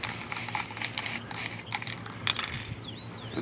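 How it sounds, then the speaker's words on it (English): Aerosol primer hisses from a shaken spray can onto miniatures in short bursts, with faint clicks and rattles between sprays; no one speaks. "Shake while you spray."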